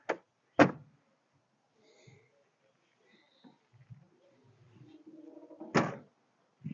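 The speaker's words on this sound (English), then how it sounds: "The doors close like they should." Doors on a 1993 Mercedes W126 500SE shut with three solid thumps, one at the start and two more spaced out, separated by quieter rustling and faint handling noises.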